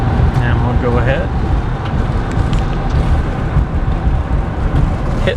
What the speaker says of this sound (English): Hitting the brakes pretty good and hard.